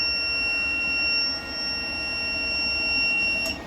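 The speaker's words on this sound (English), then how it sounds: "except for that beep" A steady high-pitched electronic beep from a power inverter converting DC power sounds continuously over a low hum, with brief breaks in the tone, close by and fairly quiet.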